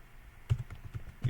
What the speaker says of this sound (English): I'm going to key in my password.